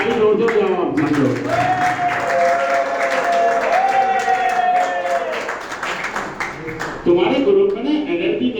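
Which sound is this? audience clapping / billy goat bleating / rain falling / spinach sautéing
audience clapping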